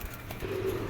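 Racing pigeons in a flock give a brief low coo, close and moderately loud over a soft background hum, with no voices.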